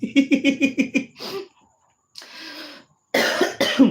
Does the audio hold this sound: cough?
yes